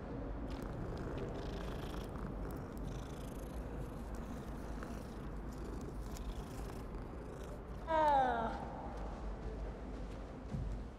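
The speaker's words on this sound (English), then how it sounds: "ooh, there's a cat" A cat in the Hogwarts Legacy video game purrs in a steady low rumble across the whole stretch, with a short brighter meow-like chirp near the end, all at a soft, even level without speech.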